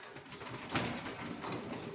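Baby racer pigeons coo softly in a loft, faint and low, with one brief louder call standing out against a murmuring background.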